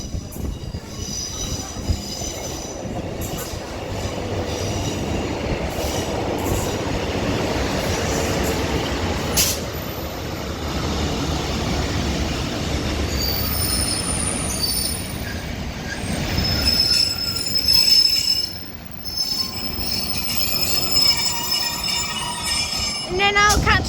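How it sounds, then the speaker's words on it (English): Northern Rail class 156 and class 150 diesel units arriving at Liverpool South Parkway, with steady rumbling running and wheel squeal from the rail cars, loud and close throughout. "Now arriving in is going to be the 1340 Northern service to Liverpool Lime Street from Manchester Oxford Road with the 156 and a 150."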